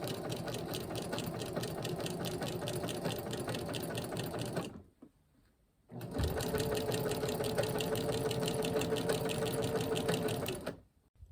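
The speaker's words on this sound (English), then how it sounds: "I'm gonna go ahead and baste this panel and the other one as well" Sewing machine basting layered tent fabric panels, running in two long continuous bursts of steady rapid stitching with a brief pause between, close and loud with no talk.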